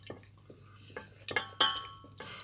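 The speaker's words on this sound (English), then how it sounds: "basically what we're doing is making a roux, which is basically creating a white sauce mix" Utensil scraping and clinking in a pan while a roux for a white sauce is stirred for a fish pie, a few sharp metallic taps and scrapes close up with quiet sizzling between them.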